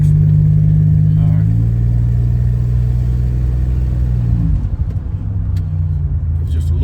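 A Buick Grand National's engine drones under light throttle on a test drive, a steady low rumble heard from inside the car that eases and shifts in tone partway through, with no talk.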